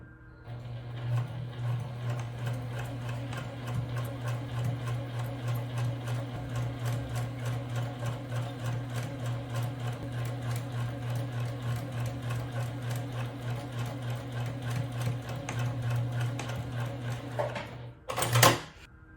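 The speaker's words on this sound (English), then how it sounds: "I'm here in the sewing machine and I'm going to top stitch" A sewing machine top-stitching a fabric gift bag runs steadily for most of the clip, a fast mechanical whirr with rapid stitching clicks, ending in a brief clatter.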